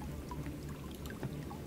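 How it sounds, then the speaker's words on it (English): Water poured onto a cloak in the Shadowgate video game, a faint, soft splashing trickle that runs steadily with small drips, quiet and alone. "What happens when you use the water on the cloak?"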